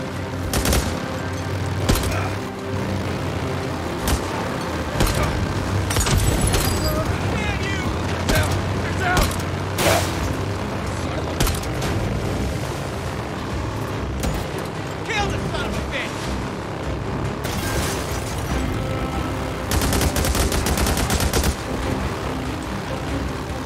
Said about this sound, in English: I'm gonna shoot the bike!